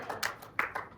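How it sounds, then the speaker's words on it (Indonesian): A few sparse hand claps ring out in a classroom for a student, several quick separate slaps in about a second, fairly quiet and close. "Beri aplaus untuk Fajri"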